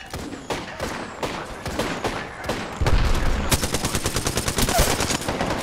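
Rapid automatic gunfire in the battle royale shooter Apex Legends, a dense burst of repeated shots that intensifies midway and keeps firing steadily to the end, loud and close.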